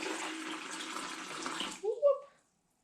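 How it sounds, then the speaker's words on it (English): Water pours steadily out of an aquaponics fish tank with a broad, continuous splashing for nearly two seconds, then breaks into a couple of short gurgles before stopping into silence. "So I'm going to pour a little bit more of that water out."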